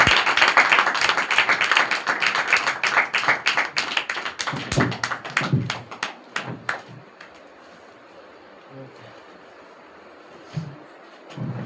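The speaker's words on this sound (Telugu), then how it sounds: "మనందరూ కూడా గట్టిగా చప్పట్లు పెడుతూ మరి ప్రసాదయ్య గారిని" A church congregation claps loudly and rhythmically together for several seconds, then the applause thins into scattered claps and fades to near quiet, with a couple of brief bursts near the end.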